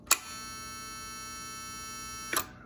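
A steady electrical buzz from the vibrator power supply of a Palomar 150 mobile linear amplifier, rich and harmonic, switches on with a click, holds evenly for about two seconds, then clicks off.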